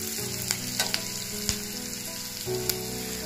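Onion and chili fry for paneer bhurji in butter and oil, a close, steady sizzle broken by a few sharp clinks of stirring, with soft tonal music running underneath.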